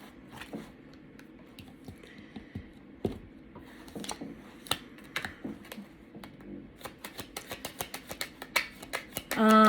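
Tarot cards being shuffled during a reading: soft papery riffles and taps that come in scattered bursts, then grow into a quick, steady run of close, crisp flicks near the end.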